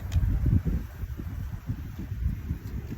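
Steady low rumble of wind buffeting the microphone at Half Moon Beach at night, gusting unevenly throughout with a faint rustle on top; no voices.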